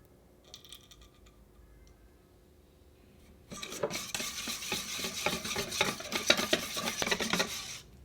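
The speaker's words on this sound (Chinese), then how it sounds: "大力搅拌就好" Vigorous stirring of soy-milk snow-skin mooncake dough with added vegetable oil: a quiet start, then rapid, dense scraping and clinking of a utensil against a bowl, close and continuous.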